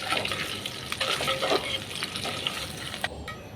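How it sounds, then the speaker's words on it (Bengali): Quail eggs fry in hot oil in a home kitchen pan, giving a steady close crackle and sizzle with scattered pops and faint utensil scrapes, then a brief lull near the end. "আমার ডিমগুলাও প্রায় ভাজা হয়ে গিয়েছে।"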